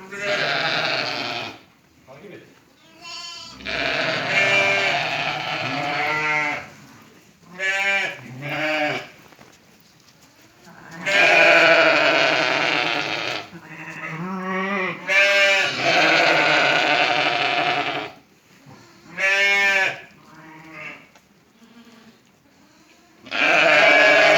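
Lambs and sheep bleating loudly and close by, repeated wavering cries in bursts separated by short pauses, several animals calling over one another on a farm.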